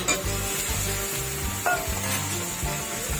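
Chili, turmeric powder and tomato hit a hot pan and sizzle steadily, with the scrape and clatter of stirring layered over the continuous hiss.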